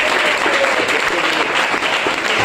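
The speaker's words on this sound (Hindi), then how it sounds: "एक जोरदार ताली" A wellness product seminar audience claps in a dense, steady burst of applause, loud and close, with no break or voices through the few seconds.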